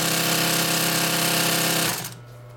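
A Consew 206RB-5 walking foot industrial sewing machine stitches at a steady, fast, loud mechanical pace. The rapid needle hammering runs continuously, then winds down and stops near the end, leaving a low motor hum alone.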